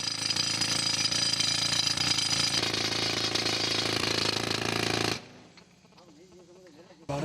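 A drilling machine bores into marble in an underground Makrana marble mine in India, a loud, harsh, continuous rattling roar for about five seconds that stops abruptly, leaving a quieter background hum.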